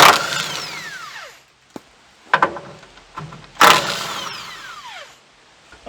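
Radiator bolts being removed on a 1978 Ford Fairmont, with bursts of a power tool spinning up and winding down, interspersed with metallic clanks and quiet pauses.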